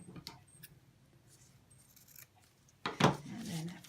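Scissors cut ribbon into lengths for a sewn bow-storage project. A single sharp, close snip lands near the end, after faint rustling and handling sounds.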